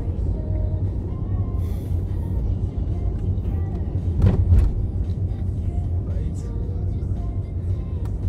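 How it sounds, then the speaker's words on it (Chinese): A car driving in stop-and-go traffic, a steady loud low engine and road rumble heard from inside the cabin, with a brief swell of passing noise midway. "开车了"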